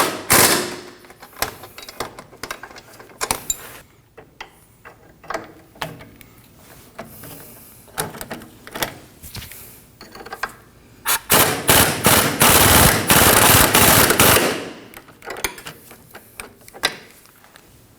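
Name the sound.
tightening Subaru Baja sway bar link bolts with a power tool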